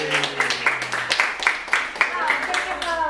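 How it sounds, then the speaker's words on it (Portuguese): Applause at a farewell gathering for tia Lu: a quick, uneven patter of several hands clapping under overlapping voices and chatter. "volta palmas pra tia Lu por ter vindo"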